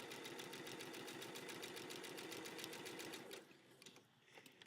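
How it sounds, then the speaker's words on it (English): A sewing machine stitches steadily along a fabric edge while piecing a log cabin pincushion, a quick even needle rhythm for about three seconds before slowing and stopping, faint and close. "I'm just going to sew right along that edge."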